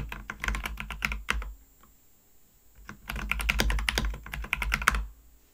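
Quick bursts of typing on a computer keyboard, close and crisp, with a pause of about a second and a half between two clusters of rapid keystrokes.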